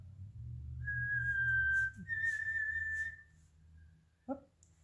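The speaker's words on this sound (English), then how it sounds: "Someone else is whistling in the house." A person whistles a few sustained, clear notes in a quiet room, followed by a brief sharp yelp from a dog.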